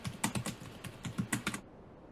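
Someone types a password on a computer keyboard, a quick run of about a dozen close, crisp key clicks in an uneven rhythm that stops abruptly.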